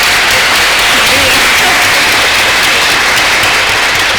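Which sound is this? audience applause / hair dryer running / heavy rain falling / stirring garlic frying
audience applause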